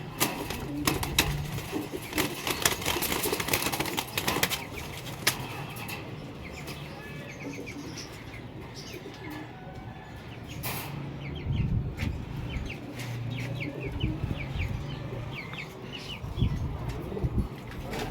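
Pigeons of a pure marked breed coo and call in a loft, with a steady murmur of birds and occasional rustling or wing flaps, close and continuous throughout, with someone speaking faintly at times.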